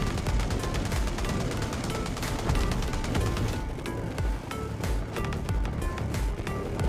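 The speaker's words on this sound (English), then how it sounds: "all the proximity cannons in the canyon roared to life" Rapid, dense bursts of heavy gunfire crack and boom continuously, like sustained cannon and machine-gun barrages, loud and close.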